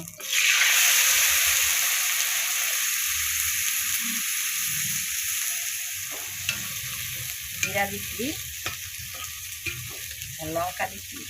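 Cumin seeds and chili frying in hot oil for a katla fish curry with flat beans and potatoes, a loud steady sizzle that slowly settles, with occasional stirring clinks near the end.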